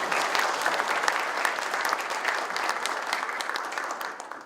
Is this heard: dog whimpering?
no